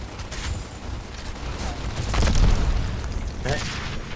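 A grenade goes off in Gears of War Ultimate Edition, a deep booming blast swelling midway through amid game noise and scattered clatter, loud and close, with no speech over it.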